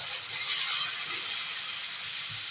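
A small splash of water goes into a hot pan of eggplant pieces, making a brief soft hiss and gush of liquid hitting the pan, faint and close with no voices.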